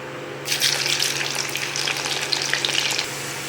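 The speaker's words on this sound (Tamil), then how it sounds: "பூண்டு நல்லா பொரிஞ்சிட்டு இப்போ இதையும் எடுத்து கடலை பருப்பில் ஆட் பண்ணிக்கலாம்." Crushed garlic cloves dropped into hot oil burst into a loud crackling fry after a brief quiet start, then bubble and spit steadily close by before cutting off near the end.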